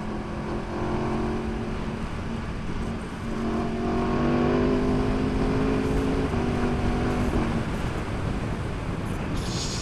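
A 2019 Aprilia RSV4 Factory motorcycle rides with a continuous engine drone under heavy wind noise, its pitch rising and shifting as it accelerates, steady and loud throughout.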